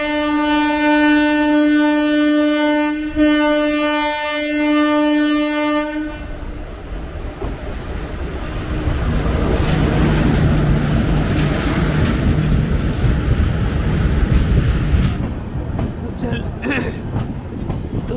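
The Satyagraha Express passenger train moves along. A sustained horn blast opens the clip, then a loud rumble and clatter of wagons rolls on, with faint voices underneath.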